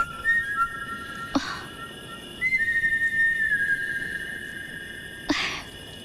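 Steady sustained whistle tones, one held note then a second note that slides slightly, moderately loud in a quiet indoor setting, with two short sharp bursts like sneezes or breaths between them; no talking.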